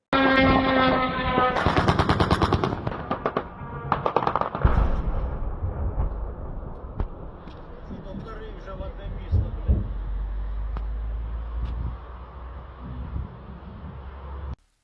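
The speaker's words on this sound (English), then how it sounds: "are those gunshots we just heard?" Rapid sharp gunshots crackle in bursts, followed by scattered single pops over outdoor background noise and some talking.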